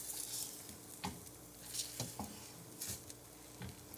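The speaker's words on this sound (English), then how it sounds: "You're going to want to just swirl your eggs as they're cooking." Eggs sizzle softly in a frying pan as they are swirled around while they cook for shrimp fried rice, with several short scraping and stirring bursts over a quiet background.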